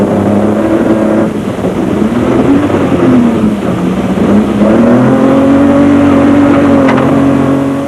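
A Castrol Toyota Land Cruiser rally car in the 2001 Carnival City 400 roars loudly and close on a slick, muddy road, its engine holding a heavy drone with rising and falling revs throughout.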